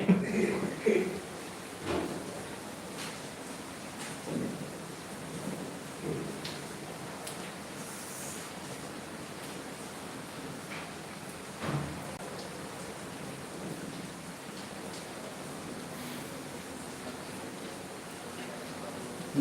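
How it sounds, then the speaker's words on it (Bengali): Steady rain falls throughout, a soft continuous hiss, with a brief low rumble partway through that may be distant thunder; a faint voice briefly occurs early on. "আর আমার এখানে বৃষ্টি হয়"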